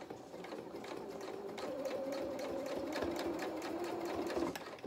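A domestic sewing machine stitches fabric around a curve at a fairly slow pace, its soft motor hum and rapid needle ticking steady and close but quiet, with no voices.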